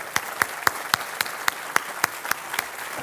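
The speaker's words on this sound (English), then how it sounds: "Let's give another round of applause." An audience at an annual meeting claps in a steady, even rhythm, about three or four sharp hits per second over a low background hum, with no voices.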